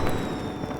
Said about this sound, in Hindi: पटाखे तो आसमान में फूटते हैं